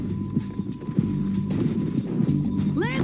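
Horse hooves clip-clop in the video game Red Dead Redemption 2, steady close trotting under a continuous game soundscape, ending in a sharp rising whinny.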